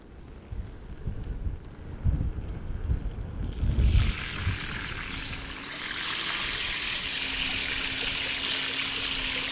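An Inmotion V14 electric unicycle rolls through shallow water, giving a rushing, splashing wash that swells into a steady broadband spray with a faint motor whine beneath, up close and continuous with no talking.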